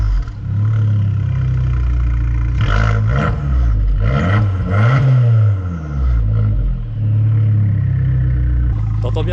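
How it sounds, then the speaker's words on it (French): A powerful turbocharged car engine roars and revs close by, rising and falling in loud surges with a whirring turbo tone, with brief talk partway through. "T'entends bien le turbo quand même, hein, ça."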